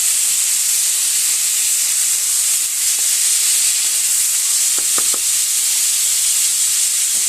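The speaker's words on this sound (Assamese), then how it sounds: "যিহেতু মুগ দালিটো ভাজিছোঁ, বেছি ভাজিব নালাগে।" A steady hiss of moong dal frying in a hot pan, with a few brief scraping clicks of stirring partway through.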